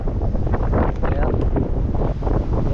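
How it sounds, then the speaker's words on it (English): Strong, gusty wind buffets the microphone outdoors during removal of a huge cedar tree, a continuous loud broadband rush with surging gusts throughout. "A lot of wind."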